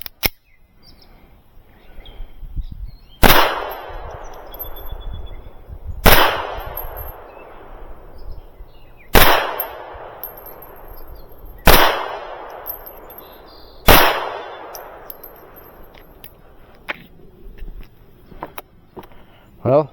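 Five sharp, loud gunshots from a .32 Manurhin PP pistol ring out a few seconds apart outdoors, each with a ringing decay, with quiet background between them.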